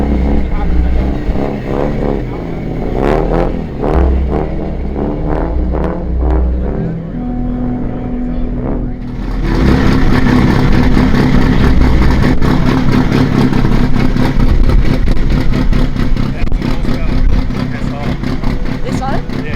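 A loud engine revs to about 10,000 RPM, with uneven bursts of revving giving way to a sustained, harsh high-rev roar. Voices are heard in the background.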